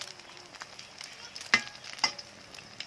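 Shellfish deep-frying in a pan of hot oil for a Thai fried shellfish dish, a soft steady sizzle broken by two brief sharper crackles or stirring clinks, close and fairly quiet.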